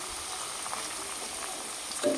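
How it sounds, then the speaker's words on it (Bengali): Egg fries together with potatoes in a pan, making a soft, even hiss that is faint and continuous with no voices. "আলুটা দেখো ভাজা হয়ে এসছে তার মধ্যে ডিম দিয়ে দিয়েছি"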